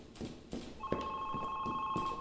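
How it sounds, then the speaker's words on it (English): Phone ringing in an indie horror video game about Alzheimer's disease: a steady electronic ring tone sets in partway through and holds continuously, heard over a repeating low rhythmic ambient pulse. "Oh, I hear a phone."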